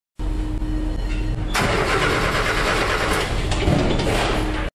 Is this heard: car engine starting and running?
yes